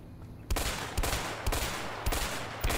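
Machine gun fire in A Way Out: four or five sharp, loud bursts at roughly half-second intervals, close and punchy, standing alone without talk.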